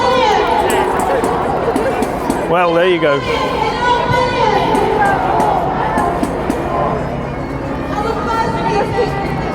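A crowd of marchers chatters at a protest march, a dense, continuous babble of many voices outdoors, with a nearby voice speaking briefly above the crowd.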